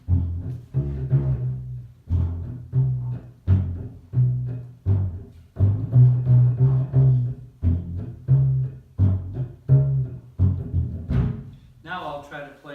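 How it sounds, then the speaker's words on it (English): A gut bucket, a washtub-style bass, plays a rhythmic beat in a steady string of low, thumping plucked notes. The notes are close and distinct, with a brighter, busier sound near the end. "The gut bucket plays all kinds of beats and sounds like this."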